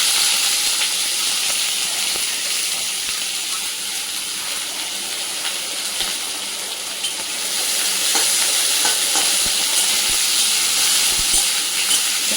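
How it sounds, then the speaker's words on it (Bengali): Onions fry in hot mustard oil with a constant loud hissing sizzle, up close, with scattered faint stirring clicks throughout and no talking. "পেঁয়াজগুলো একটু ভাজা ভাজা হোক"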